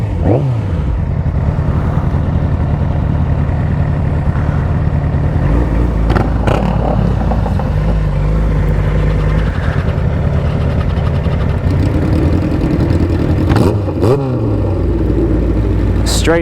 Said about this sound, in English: Straight pipe 4-cylinder sounds pretty good.